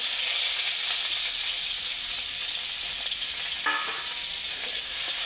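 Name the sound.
onions frying in oil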